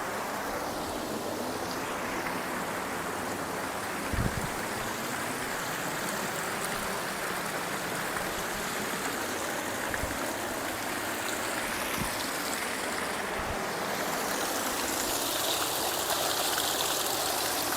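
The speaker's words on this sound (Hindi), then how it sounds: "साफ और स्वस्थ पानी आ रहा है लगभग," Clean, clear water flows steadily in a stream at the Kaila Devi temple site in Karauli, a continuous broadband rush with a few soft knocks, close and alone with no talk.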